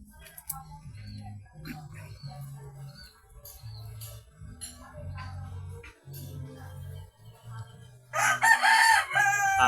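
A six-month-old rooster crows loudly near the end, after a stretch of quieter background sounds and low rumbling.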